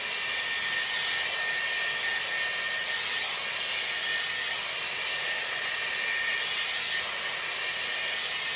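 A Dyson Airwrap round brush blows hot air as hair is dried, making a loud, steady, close whooshing hum that runs unbroken throughout with no talking.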